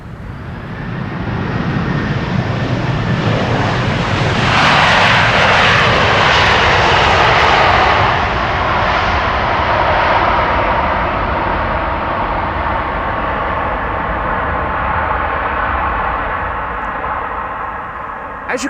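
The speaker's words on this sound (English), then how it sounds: "by listening you could hear that the reverse thrust was actually applied" A Delta Airlines jet arriving from Detroit lands at Amsterdam Schiphol, its engines roaring loud and close as reverse thrust swells, then the broad rumble slowly fades as the aircraft decelerates down the runway.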